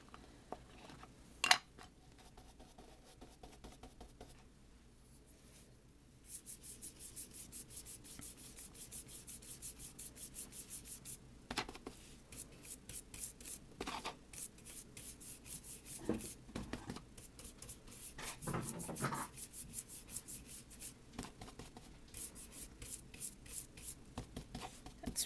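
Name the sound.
rubbing ink off card-making tool on scratch paper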